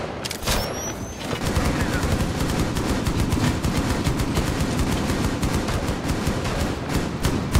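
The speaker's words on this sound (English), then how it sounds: "Okay, stop firing." Rapid, sustained automatic gunfire in Rainbow Six Siege on the Presidential Plane map, a dense close stream of shots after a brief sharp opening crack, loud and continuous to the end.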